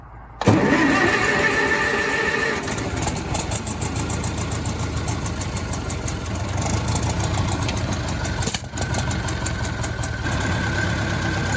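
Cold start of an antique Farmall M tractor engine: a brief cranking burst catches quickly, then a loud, close, rough idle with a steady chugging beat that briefly dips near the end.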